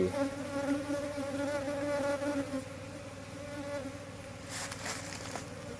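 Bees from a lazy colony buzzing around a newly built honeycomb inside a hive box, a steady dense hum that stays close and continuous throughout.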